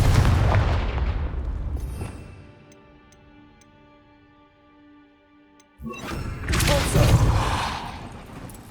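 A Confringo fire spell goes off in Hogwarts Legacy on PS5 with a loud, booming blast. A quiet lull of faint ticking and ringing tones follows, then a second heavy roaring burst.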